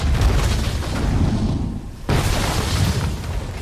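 A bomb trap exploding in an action film: a loud, dense rumbling blast that fades slightly, then a second heavy burst of roaring noise that sustains to the end.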